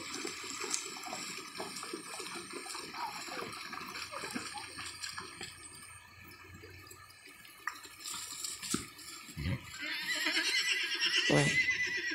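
A horse by a river gives a couple of loud, shrill whinnies that stand out near the end, over a background of running water, faint drips and occasional hoof knocks, with no talking.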